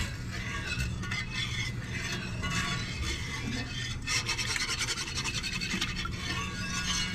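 A whisk scrapes and stirs through gravy in a pan, with quick repeated scratching strokes against the metal, close and fairly quiet, continuing steadily without talk.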